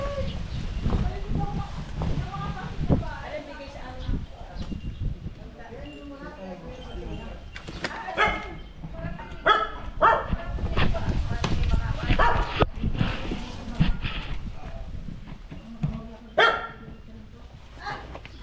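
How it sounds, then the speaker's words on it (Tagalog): Several sharp dog barks ring out at intervals amid people talking and rustling, with scattered clopping knocks nearby. "May aso dito."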